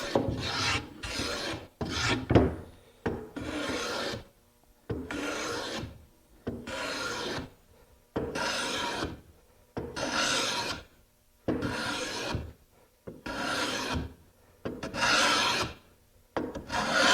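A hand rasp rounds over the corners of a wooden column, shaped by hand without a lathe: about a dozen steady, rhythmic rasping strokes, close and loud, each followed by a short quiet gap.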